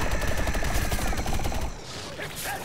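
Gunfire in the video game Plants vs. Zombies: Garden Warfare 2: a dense, rapid stream of shots that runs steadily and loud for nearly two seconds, then cuts off into fainter game sounds.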